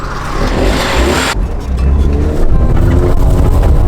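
A Mercedes fitted with ten wheels on its rear axle drives along, its engine loud and close as it accelerates, the drone rising in strength toward the end amid heavy road and wind rumble.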